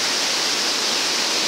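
The waterfall on Carra Beanga Brook in Kanangra rushes close by as a loud, dense, unbroken hiss of falling water, steady and constant, with no voices.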